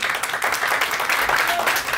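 Parents at a school event applaud the teachers: a short burst of dense, brisk clapping from a seated audience, steady and moderately loud throughout.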